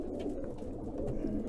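Pigeons cooing inside a loft, mostly dark-feathered racing birds, heard as a dense, continuous low murmur of overlapping coos from many birds close by, steady throughout with no talk.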